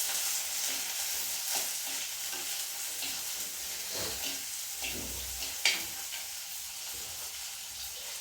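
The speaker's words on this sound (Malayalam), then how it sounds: "ഇതും കൂടെ ഇട്ട് കൊടുത്തതിന് ശേഷം നമുക്ക് നന്നായിട്ടൊന്ന് ഇളക്കാം" Fish curry with curry leaves gets stirred in a clay pot, giving faint scraping and soft sizzling with a few light knocks, quiet and close with no voices.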